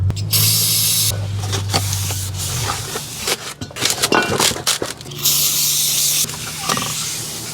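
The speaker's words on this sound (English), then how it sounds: "before I put on the new rotor, we need to wipe that down with some brake cleaner" Brake cleaner sprays onto a new brake rotor in loud, close hissing bursts, a long spray at the start and another near the end, with rubbing and clattering handling noises between them.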